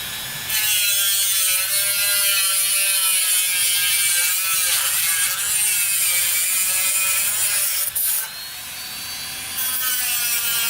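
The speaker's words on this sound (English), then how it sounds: "We're going to try to use the Dremel and then sand that off quick." A Dremel rotary tool grinding a small lip off a part from a vintage Honda CR80 being torn down, producing a loud, continuous high-pitched motor whine with a rasping edge that dips briefly once before carrying on.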